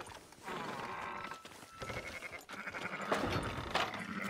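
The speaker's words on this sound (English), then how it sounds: "Fine sheep." Sheep bleating in the Red Dead Redemption 2 game: several wavering bleats from a few animals overlap at moderate distance, mixed with livestock shuffling and faint hoof sounds.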